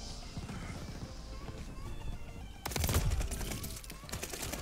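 Gunfire in the Call of Duty Vanguard video game: rapid bursts of automatic shots erupt partway through after quieter rattling action, close and loud.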